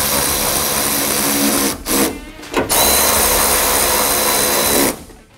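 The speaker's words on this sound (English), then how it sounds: "So we're ready to reinstall our two Torx 30 bolts" Power tool driving Torx 30 bolts into a 2024 Ford Ranger at the reverse light, loud close whirring in two long bursts separated by brief pauses.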